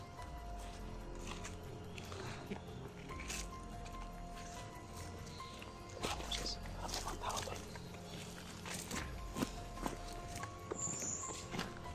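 A dog whimpers and moves about nearby amid footsteps and steady background noise, with occasional voices underneath.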